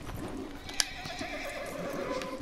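A horse neighs and whinnies in a video game, a drawn-out call over steady clip-clopping hooves and game ambience with a sharp click near the start.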